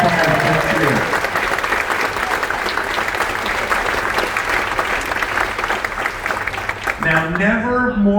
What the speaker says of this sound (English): Can we give all of our firefighters a big cheer?